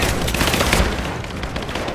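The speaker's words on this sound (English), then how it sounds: "I'm under fire!" Dense, continuous gunfire and rapid bursts in the video game Rise of the Tomb Raider, loud and close and filling the whole stretch, with no speech.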